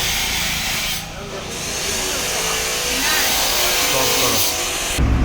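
A power tool tightening bolts on a Splendor motorcycle engine, a continuous loud buzzing whir running for several seconds with a short dip near the middle and a fresh burst at the end.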